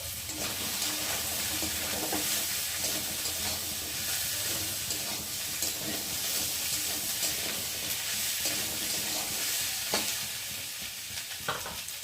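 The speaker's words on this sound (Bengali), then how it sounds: "তার জন্য আমি আজকে আলুটা ভালো করে ভেজে নেব।" Potatoes frying in oil in a pan with onion and garlic, a steady dense sizzle with occasional stirring scrapes throughout, no one talking.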